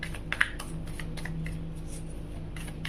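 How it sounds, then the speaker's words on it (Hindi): Tarot cards shuffled by hand, a quiet run of soft rapid flicks and taps with small sharp clicks, close and alone. "तो चलिए अभी हम टैरोट से कलेक्ट करते हैं कार्ड्स।"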